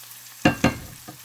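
Bacon and garlic stir-fry in spicy chili oil in a pan, with two loud bursts of sizzling as the food is tossed, then a quieter crackle and a couple of faint clicks.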